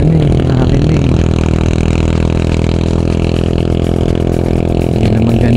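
A motorcycle engine runs rough on overly thick oil during a ride on the Marilaque Highway near Tanay, a loud, steady close-up drone with constant rumble and clattering texture throughout.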